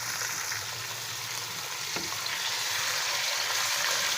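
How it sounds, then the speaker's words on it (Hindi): Chicken pieces sizzle loudly in hot oil with garlic, ginger and garam masala for an arvi chicken curry, a dense, constant frying hiss close up, with a brief stir around the middle and no voices. "अब हम इसमें चिकन शामिल करेंगे और इसको अच्छे से फ्राई कर लेंगे।"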